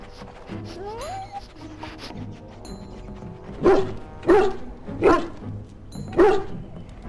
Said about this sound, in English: Get the dog out and keep him away, I beg you.